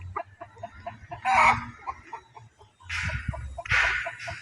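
Farmyard chickens cluck and squawk nearby at feeding time in the morning, with repeated short clucks and a couple of louder excited bursts, no talking.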